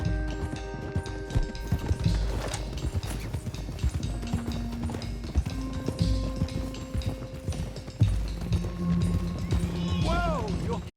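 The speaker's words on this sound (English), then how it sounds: "let's get these horses to Clemens Cove quick before we run into any more trouble" Horses gallop in Red Dead Redemption 2, a steady rapid clip-clop of hooves running continuously over rumbling game ambience, with a brief whinny near the end.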